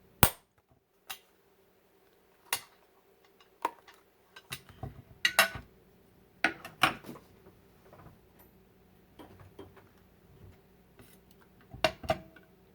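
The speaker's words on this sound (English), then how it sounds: "I'm using my larger hole punch because my eyelets are a little bigger" A larger hole punch clunks through a journal page to make holes for eyelets, giving sharp isolated clicks and snaps spaced across the span, near and fairly clear over quiet handling noise.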